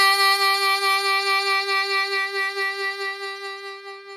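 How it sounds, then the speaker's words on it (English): A single sustained harmonica note wavering with steady vibrato, clear and alone, gradually fading toward the end. "A lot of people ask questions about getting vibrato on the harmonica"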